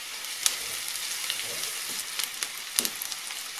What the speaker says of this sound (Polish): Na ładnie zeszkloną cebulkę wrzucam kawałek masła.